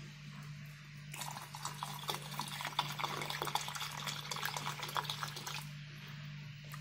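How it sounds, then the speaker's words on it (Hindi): Water poured from a large plastic bottle onto garden plants in pots, among them potatoes: an uneven splashing and trickling that starts abruptly, runs for several seconds and then stops, over a steady low hum. "तो आइए फिर पानी दे देते हैं अपने पौधों को।"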